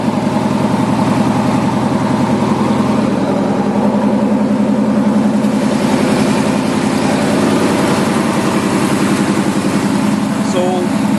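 A 1972 Corvette Stingray with a custom 454 V8 idles close by, a loud, steady, low rumbling pulse that holds even throughout, with a voice speaking over it.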